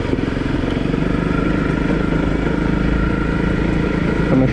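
A Honda CRF250L motorcycle engine runs continuously while riding along a rural road, a steady close thrumming drone with light clatter, no talk.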